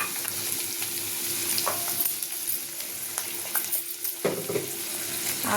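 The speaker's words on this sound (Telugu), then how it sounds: "ఆయిల్ వేడెక్కిన తర్వాత ఈ ఉల్లిపాయలు, పచ్చిమిర్చి తరిగి పెట్టుకున్నాం కదా, దాన్ని ఈ ఆయిల్లో వేసేయాలి" Chopped onions and green chillies frying in hot oil in a pan, a continuous crackling sizzle with scattered pops and the scrape of stirring, close and fairly quiet with no talking.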